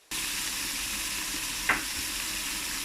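Broad beans stir-fried in a hot wok with salt, dark soy sauce, light soy sauce, oyster sauce and pepper give off a steady, close sizzle, with one brief clatter of the spatula near the middle.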